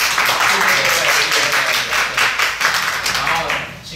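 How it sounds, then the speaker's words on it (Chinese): An audience at a public science talk applauds to thank two speakers, a dense, sustained clapping that fades toward the end, with some talking mixed in. "好，那我们就掌声谢谢两位讲者。"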